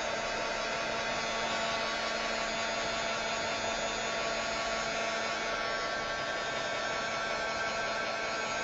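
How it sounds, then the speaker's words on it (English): A heat tool blows hot air over art journal pieces to dry them, giving a constant, even whirring hiss with a faint hum and no talking. "let me give them a quick heat set"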